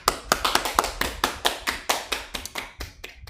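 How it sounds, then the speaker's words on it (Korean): Applause from a church congregation during an Easter Sunday service in Guadalajara, uneven and rhythmic, with sharp claps from a few nearby people repeating quickly, close and loud, with no voices. "우리 하나님께 영광의 박수 올려드리겠습니다"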